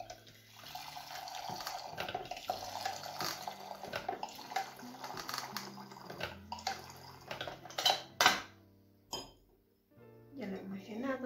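Water is poured into glass beakers in a chemistry lab, with splashing and trickling bursts, glassy clinks and knocks, and a few louder pours near the end while someone speaks in between.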